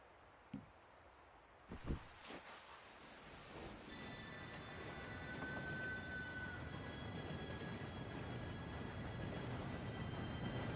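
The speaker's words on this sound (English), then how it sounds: "Train should be here any minute now." A train in the video game Red Dead Redemption 2 approaches, building from faint rumble to a steady louder rolling roar. A few sharp knocks come early on, and a thin whistle-like tone rises midway.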